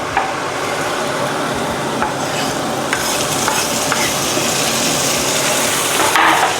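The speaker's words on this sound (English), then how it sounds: "as you can see the onions caramelizing" Onions caramelizing in a pan on a stovetop, a steady close sizzle and crackle with occasional stirring scrapes, no voices over it.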